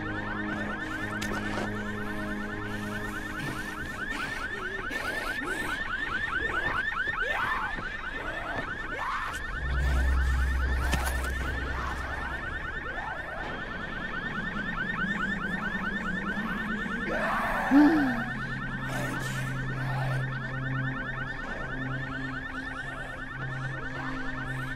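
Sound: car alarm going off in Dying Light video game

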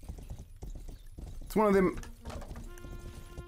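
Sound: horse hooves clip-clopping in a video game

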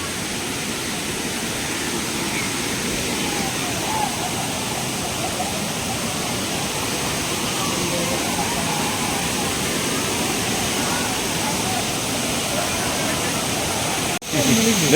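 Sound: waterfall, Anachadikuthu falls in Kerala

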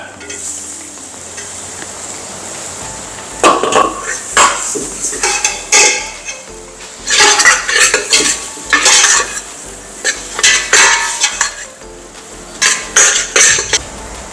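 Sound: green chillies and tomatoes added to a cooking pan

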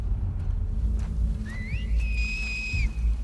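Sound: whistling signal of enemies in The Last of Us 2 video game

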